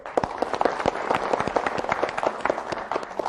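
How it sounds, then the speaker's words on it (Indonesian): Audience applause at a regional competition event, a steady scatter of sharp hand claps at moderate loudness with no talk over it. "Kita berikan tepuk tangan dulu."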